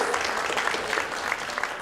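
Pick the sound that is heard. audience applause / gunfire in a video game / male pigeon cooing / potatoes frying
audience applause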